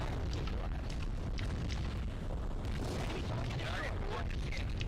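Artillery fire and explosions in the World in Conflict strategy game rumble as a constant, dense low roar with scattered bursts throughout, loud and continuous.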